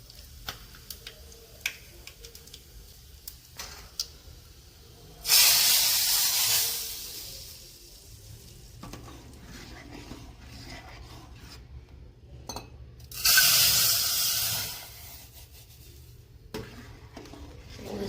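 Asafoetida and cloves sizzle in hot oil for a dal dhokli tempering, two loud bursts of hissing spatter each lasting a couple of seconds, separated by quiet kitchen ticks and clatter.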